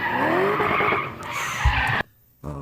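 A V8-powered BMW E28 drifting on a street screeches its tires in a long loud skid with engine roar underneath, then cuts off briefly before the sound resumes.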